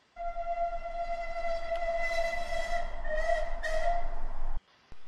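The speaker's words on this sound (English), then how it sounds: "In the distance, Percy heard George's whistle." A steam locomotive's whistle sounds in one long, steady harmonic blast lasting several seconds before cutting off abruptly, moderately loud with a slight rumble beneath and no talk.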